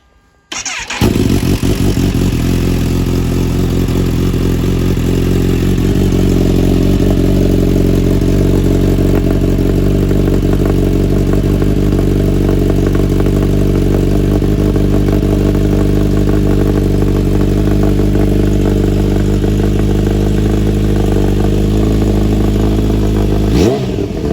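A Kawasaki H2 SX SE motorcycle fitted with a Lextech exhaust can starts and runs, settling into a loud, steady, throaty idle close by with slight revving and mechanical clatter, then cuts off abruptly at the end.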